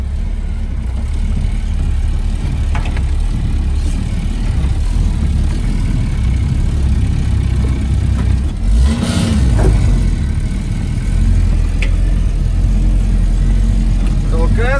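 A car pushes along a rough forest road, its engine and tyre rumble loud and steady throughout with small jolts, and voices are mixed in beneath the noise.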